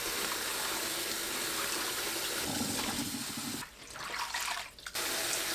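Chopped cabbage rinsed under a steady stream of running tap water in a kitchen sink, a continuous close splashing wash with a brief dip in flow near the end.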